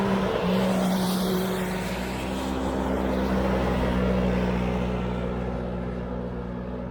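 Yamaha YXZ UTVs on studded tires race around an ice track in Colorado, their engines a loud, steady droning roar with shifting pitch as the machines sweep past, gradually easing off toward the end.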